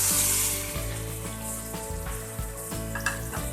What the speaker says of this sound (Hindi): इसको फ्राई करेंगे, थोड़ा सा भूनेंगे।